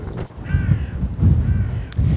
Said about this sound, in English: I can even hear crows